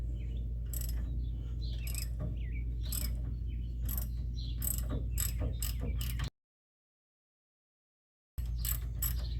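A ratchet on a 22 mm socket loosens the brake bracket bolts on a 2003 Dodge Ram 2500 during a rear brake rebuild, giving repeated crisp clicking bursts over a low hum, with a brief silent gap partway through.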